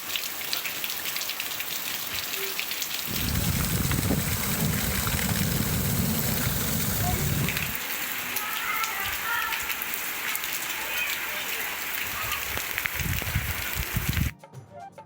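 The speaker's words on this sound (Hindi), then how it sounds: "दुक्की में मूसलाधार बारिश शुरू हो गई।" Torrential rain pours down in Dukki, a steady dense hiss of heavy drops with a louder low rumbling stretch partway through, continuous and close with no voices.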